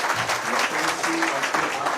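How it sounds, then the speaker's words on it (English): Audience applause fills a hall at a fundraising stage show, a dense, steady patter of many hands at moderate loudness throughout. "Another round of applause."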